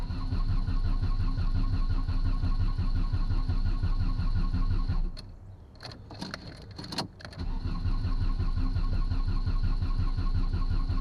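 Old Volkswagen engine, long unused, cranking and running with a loud, steady, close rumbling drone that briefly drops and sputters in the middle before picking back up.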